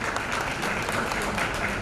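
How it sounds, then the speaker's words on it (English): A conference audience at an education discussion event gives a short burst of sustained applause, thick and even, with many hands clapping at once throughout. "Big round of applause sir, please."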